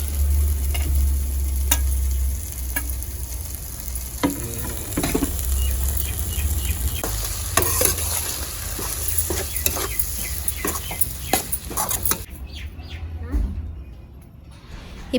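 Grated coconut stirred and roasted in a pan for a village-style ladies finger tamarind curry, giving a steady dry sizzle and frequent scraping strokes from a spoon throughout, close and fairly loud, quieting near the end.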